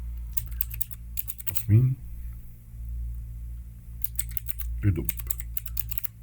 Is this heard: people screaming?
no